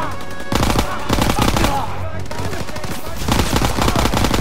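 Dense automatic gunfire in Call of Duty WWII combat gameplay, loud bursts running continuously with a brief lull midway, mixed with faint in-game voices.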